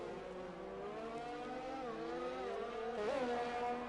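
Race car engine at full power on a flying lap of Spa on soft tyres, a steady loud drone rising in pitch through the gears with a sharp shift blip near the end.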